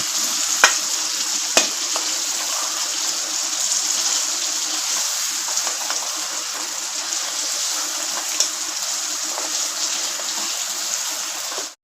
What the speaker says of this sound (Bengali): পটলগুলো ভেজে নিব হালকা করে ভেজে নেব